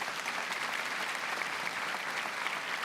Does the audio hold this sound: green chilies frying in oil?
no